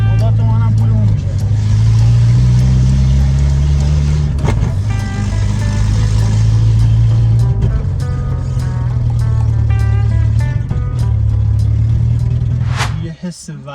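An Iranian RD car pulls away, its engine revving in a loud, steady low drone that climbs and holds, close by throughout before cutting off near the end.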